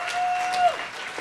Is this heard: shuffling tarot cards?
no